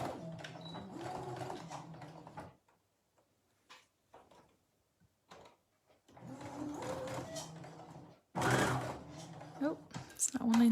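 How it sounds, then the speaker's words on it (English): A sewing machine stitching a fabric draft excluder, including reverse stitches, makes close bursts of rapid mechanical whirring with short pauses between runs. A person talks quietly between the bursts. "I need to make sure I've got my reverse stitches here."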